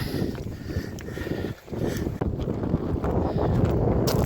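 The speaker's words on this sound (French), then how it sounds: "comme il y a du vent" Strong wind on a hilltop near a watchtower along a hiking trail at Col de Sainte-Anne, Mimet, buffets the microphone in a steady, loud rush with brief lulls and faint footsteps.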